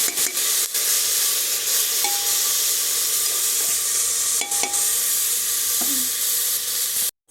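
Meat stew cooking in a pan, a loud close hiss of steady sizzling that runs unbroken for about seven seconds with a few faint clicks, then cuts off abruptly.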